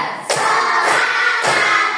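A school class claps in unison to a teacher's counting game, three sharp group claps spaced roughly half a second apart, close and loud with a faint crowd murmur between them.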